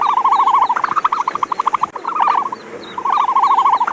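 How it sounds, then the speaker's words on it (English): An ostrich gives a run of rapid, trilling, pulsed calls in bursts with short pauses, clear and fairly close, with no talking. "The sound of an ostrich is quite unique."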